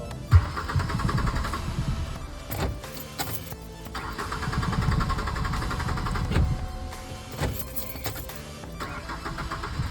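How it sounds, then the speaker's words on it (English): A car engine is started during a blend door actuator repair, with repeated cranking bursts and a steady running engine rumble between them, close and fairly loud with no talking. "I'm gonna turn on the car."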